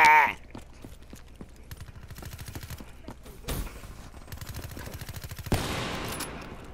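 In a video game, rapid automatic gunfire rattles in steady evenly spaced shots that run for several seconds, broken by a couple of louder bursts and a final roaring blast near the end.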